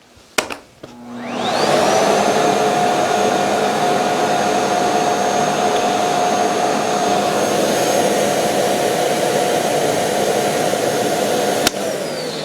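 A Miele Boost CX1 Parquet vacuum cleaner spins up at its highest suction setting and holds a loud, steady whine with a constant roar beneath, after a few clicks at the start and with a brief knock near the end.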